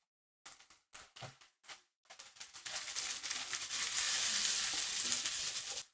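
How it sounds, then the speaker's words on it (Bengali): Onions with ginger and garlic paste go into a pan for a prawn curry, starting with a few short stirring scrapes, then building into a loud, continuous sizzle of frying. "আদা ও রসুনের কাঁচা গন্ধটা চলে যাওয়া পর্যন্ত এগুলোকে একটু ভেজে নিলাম।"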